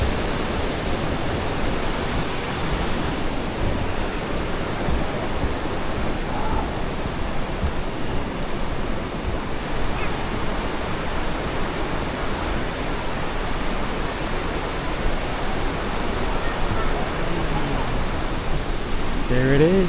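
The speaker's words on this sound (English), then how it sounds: "Looks like we're getting close to the waterfall." Snoqualmie Falls roars as a steady, dense wash of falling water, loud and continuous from start to finish with no breaks.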